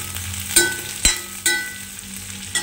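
Ginger, green chilies and garlic fry in oil in a pan, a crackling sizzle punctuated by four sharp clacks of a spoon stirring against the pan.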